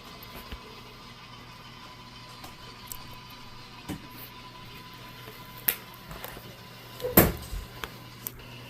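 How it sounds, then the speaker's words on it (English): A clothes dryer runs nearby in a workshop, giving a steady low hum with scattered knocks and thumps from the tumbling load, including one louder clunk. "Don't mind that, it's just a dryer."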